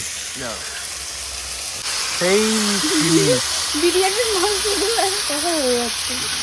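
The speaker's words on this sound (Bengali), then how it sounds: "মশলাপত্র দিয়েছে মাখা আছে চিকেনটা এখন আমি কড়ার মধ্যে দিয়ে দিচ্ছি" Spice-coated chicken goes into a hot wok (kadai) in a rural kitchen, and a hissing sizzle starts partway through and stays steady under a person talking.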